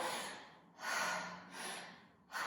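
A person imitates labored, heavy breathing, with three long, effortful breaths that are loud and close, separated by brief pauses, and no speech over them.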